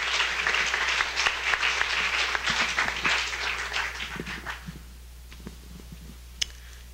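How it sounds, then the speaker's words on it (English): Audience at a panel discussion applauding a speaker as she is introduced, loud close clapping for several seconds that thins out and fades to scattered claps and near silence. "Please, a huge round of applause for Linda Sarstone."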